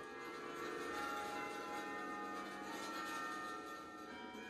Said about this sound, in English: Students have been passing between classes to the chimes ever since the 1920s.